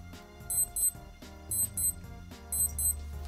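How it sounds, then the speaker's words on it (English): A Casio Baby-G BG-2002L digital watch alarm, pattern C, chirps in quick paired beeps, repeating three times in a regular rhythm over soft background music. "This is how it will beep."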